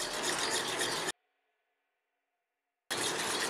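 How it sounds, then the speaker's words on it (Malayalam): Donut dough of eggs, sugar and melted butter being mixed in a bowl, a close scraping, rubbing stir before a long silent gap and then more stirring. "എന്നിട്ട് അതും കൂടെ മിക്സ് ചെയ്യുക."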